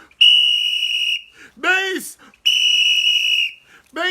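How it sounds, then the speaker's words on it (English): A shrill whistle blows two long, steady blasts of about a second each, loud and close, with a voice crying out between and after them, amid basketball commentary. "Mace, I gotta give you the whistle, Mace"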